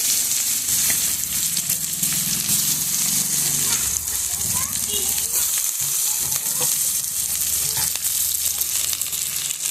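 Mustard seeds, chopped garlic, onion and chilli fry in a pan, giving a steady, close sizzle that carries through the whole stretch with faint stirring scrapes.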